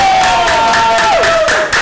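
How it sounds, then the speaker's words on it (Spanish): A congregation at a church service claps in a loud, steady rhythm, roughly four claps per second. The clapping sits under a sustained sung or held vocal tone for just under two seconds. "¡Fuerte el aplauso!"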